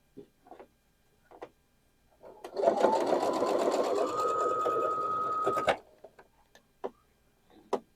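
A sewing machine stitches a quilt block seam in one steady, close run of about three seconds, with light clicks and handling sounds before and after.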